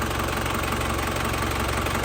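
A 2006 New Touring engine idling close by, a dense, steady mechanical rumble with a fast knocking vibration, even and unbroken, no voices.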